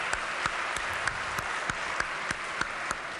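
A legislature chamber audience applauds visiting teachers, with steady clapping of moderate loudness and a few sharper individual claps standing out, heard from a distance and without speech.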